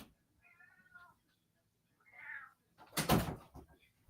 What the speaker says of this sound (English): I need to get the cat